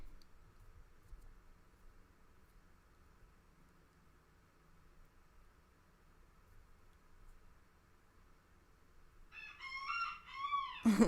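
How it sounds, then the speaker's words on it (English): A rooster crowing faintly in the distance against quiet background hiss, with a louder, closer crow or squawk arriving at the very end. "Chicken's mad."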